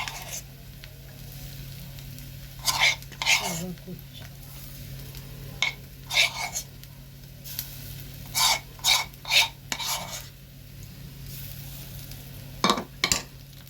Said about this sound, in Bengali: তেলের মধ্যে দিয়ে দিচ্ছি।